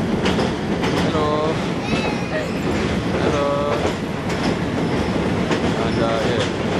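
A train rolls past on a railway bridge with a steady loud rumble and intermittent high wheel squeals, while a person speaks briefly.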